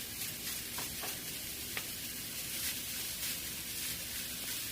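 Sausage sizzles steadily in a pan on medium-low heat, a continuous close frying hiss with a few soft scrapes as the pieces are pushed around, and no voices.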